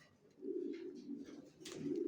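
Racer pigeon chicks of the Johnson line coo softly, with a low, continuous purring warble heard close up and alone.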